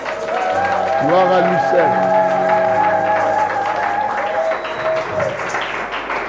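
A church congregation applauds and acclaims during a French-language worship service, sustained clapping and crowd cheering under a voice and sung or chanted tones that continue steadily throughout.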